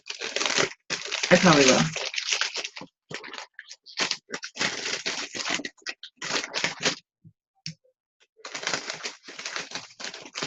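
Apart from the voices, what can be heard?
hand put into crinkling plastic bag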